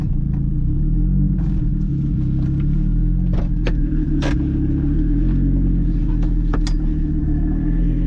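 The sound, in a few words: Audi car engine running at high speed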